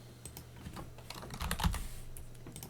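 Fingers type on a computer keyboard at a Linux terminal, making quick, irregular clicks and taps. The keystrokes are close and moderately loud, with a slightly denser flurry in the middle.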